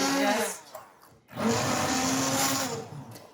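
A blender blending soup whirs loudly, cuts out briefly for about a second, then roars back and runs steadily to the end.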